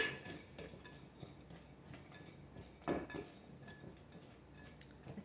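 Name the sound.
stirring nuts, coconut and cinnamon in a bowl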